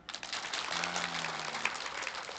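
A small group claps briefly, a thin, moderately faint patter of hands with a low hum running beneath.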